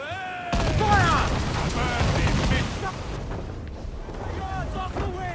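Repeated ship cannon fire in the pirate game Assassin's Creed Black Flag, loud booming blasts in quick succession over battle din, with shouted crew voices and speech throughout.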